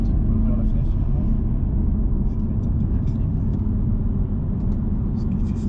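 Low, steady engine rumble of a 410 hp BMW M2 Competition from inside the cabin, constant and droning with no change in pitch.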